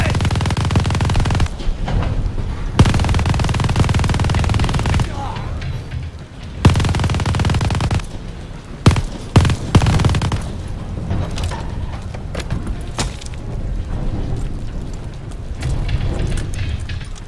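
Automatic gunfire and booming explosions from Call of Duty: Vanguard in a battle on Operation Tonga, loud sustained bursts with short pauses and sharp blasts, running under shouted voices throughout.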